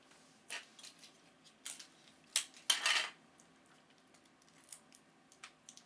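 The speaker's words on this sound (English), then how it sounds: "I'm going to keep these two on there with tape. So let's just go ahead and tape them on." Tape pulled and pressed on to hold weights on a Mini A.C.A. Cyclone 125 Core siren, giving quiet, close, irregular crackles and clicks with a louder tearing rip in the middle.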